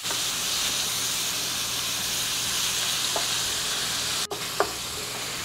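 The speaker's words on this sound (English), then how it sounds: "Now while I'm browning my ground beef" Ground beef browns in a skillet, pushed around until the pink is gone, giving a loud, continuous sizzling hiss broken by a couple of sharp knocks near the end.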